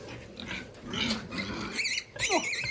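Piglets on a farm grunt and squeal in short irregular bursts, close by, with a few higher squeals near the end and a faint voice in the background.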